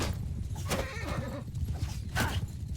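Horses neigh in a battle in the video game Mount & Blade II: Bannerlord. Two shrill, wavering whinnies ring out over a busy background of clopping hooves and combat din.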